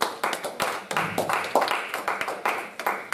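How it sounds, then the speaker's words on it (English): A church congregation claps hands together in a steady, even rhythm, roughly three claps per second, loud and close, with a faint murmur of voices underneath. "Clap your hands and celebrate God"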